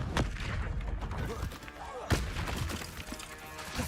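Confringo fire spell blasts in the Hogwarts Legacy game, a loud burst near the start and a sharp explosive impact around the middle over dense, continuous game effects.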